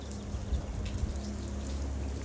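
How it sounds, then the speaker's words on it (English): Water from a 1 HP pump sprays onto solar panels while they are brushed, making a steady, close hiss and splatter with a few brief louder splashes. "I just want to show you guys how this works with the pump. If you notice, a lot more water flow."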